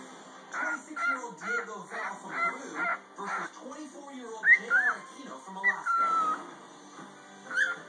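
A pet bird gives a run of loud, squawking calls, several in a row and close by, with a few sharper whistle-like notes, while a person talks softly to it.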